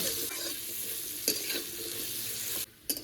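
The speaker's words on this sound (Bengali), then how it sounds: "স্বাদ মতন লবণটা দিয়ে ভালো করে বিটরুটটা আমি তেলের ভেতর একটু ভেজে নেব।" Beetroot sizzles and crackles in hot oil while being stirred in a pan, a steady close frying hiss with scraping strokes, then a brief drop near the end before the sizzle returns.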